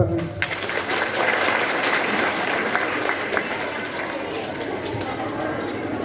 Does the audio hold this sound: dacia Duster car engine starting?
no